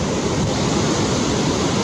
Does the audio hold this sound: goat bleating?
no